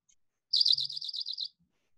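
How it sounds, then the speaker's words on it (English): A single bird song phrase: a rapid series of high, bright, repeated notes lasting about a second, clear and fairly close against silence. "I guess that's what warbling is. It's a warbler."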